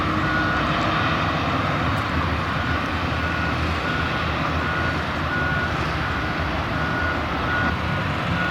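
Heavy dirt scrapers working at a stadium construction site, producing a loud, continuous engine roar with a steady rumble and repeated beeping tones throughout.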